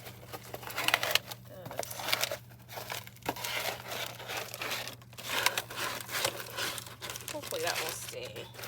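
Cardboard box being folded by hand outdoors, faint crinkling and creasing rustles scattered through, with a voice speaking quietly under the handling noise.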